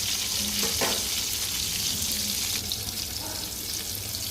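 Hilsa fish sizzles steadily in hot oil, a continuous crackling fry with a few faint clinks, no talking.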